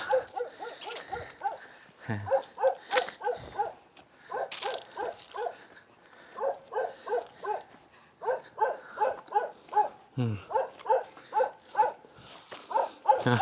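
A yellow domestic dog guarding its home in a mountain village barks in repeated sharp bursts, fairly close and loud, with short pauses between runs of barks.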